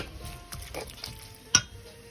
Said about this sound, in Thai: แล้วก็นำเป็ดมาลวนนะคะ ลวนให้สุกเลยนะคะ